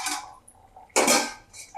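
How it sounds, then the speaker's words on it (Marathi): A metal lid lifts off a pot of urad dal boiling on a gas stove, giving a bright clatter and rattle followed by a brief hiss and a softer clink. "आणि झाकण खोलून बघू"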